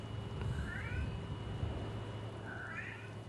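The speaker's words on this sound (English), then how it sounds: "my cat just started meowing" A house cat meows twice, two distinct rising calls about two seconds apart, heard indoors over a low background hum with no speech.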